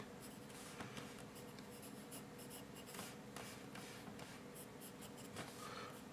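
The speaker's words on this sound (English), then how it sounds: "I'm using a 4B pencil here." A 4B pencil shades a drawing of hair on paper, giving a steady dry scratching with quick rhythmic strokes, close and fairly quiet, and no one speaking.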